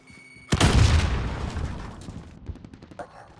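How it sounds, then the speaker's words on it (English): A grenade blast in Call of Duty multiplayer hardcore Kill Confirmed: a sudden loud boom with a heavy low rumble that decays over a couple of seconds, followed by faint game sounds. "Grenade out!"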